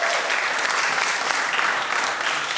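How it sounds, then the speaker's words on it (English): An awards show audience applauds, a continuous dense clapping from a crowd that stays steady and loud for the whole brief stretch with no talk over it. "Give them a round of applause."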